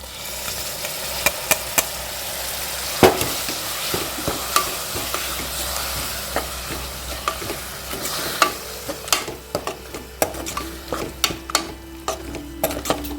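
Tomatoes with ginger and garlic being sautéed in a pan for a Tamil sundal rice dish: a steady low sizzle with repeated stirring scrapes and spoon taps against the pan, close by and without talk.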